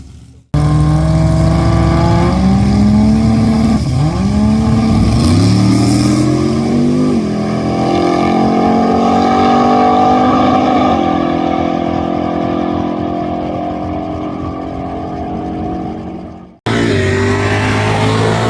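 Turbocharged drag race car engine revving loudly and close, rising and falling through several throttle blips with sustained high revs, cutting out briefly near the end before restarting.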